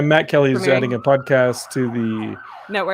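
A siren sound effect wails beneath a man's speech on a podcast, its rising and falling tones partly masked by the talking.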